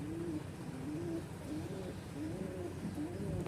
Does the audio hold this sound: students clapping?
no